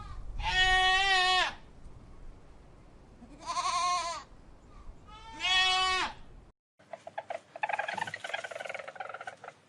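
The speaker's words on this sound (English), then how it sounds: "Goat." A goat bleats three times in long, wavering, nasal calls with short pauses between them, close and clear, followed by a stretch of rustling, crackling noise.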